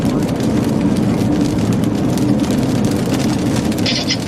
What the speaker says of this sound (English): I've got hail.